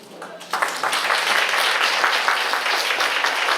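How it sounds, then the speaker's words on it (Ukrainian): An audience at a literary and music performance breaks into applause after a short quiet start, the clapping swelling quickly into a steady, full wash of many hands that carries on evenly to the end. "Оплески учасникам"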